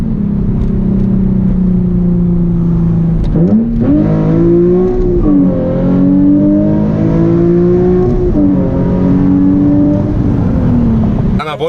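Nissan 350Z Nismo with a Tomei exhaust accelerating hard from inside the car, a loud, raspy engine note climbing through the revs, dropping briefly at gear shifts and rising again several times.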